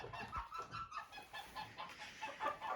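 Chickens and young chicks in a backyard coop, among them a bearded breed, clucking and peeping in a steady overlapping chatter at close range, with no voices.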